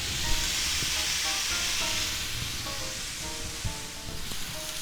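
Chuck steak sizzles in a hot, smoking cast iron skillet, a steady close hiss and crackle with small pops, heard alone.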